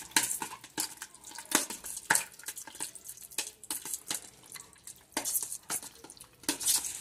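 A utensil scrapes and taps rhythmically against a container while paint colours are stirred together for a purple and white marble effect, close and fairly soft, with no voices.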